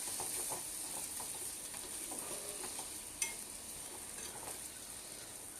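Egg curry being stirred in a pan after salt is added: soft scraping of a spoon against the pan over a steady low sizzle of frying oil, with one sharp clink partway through, fairly faint and without talking.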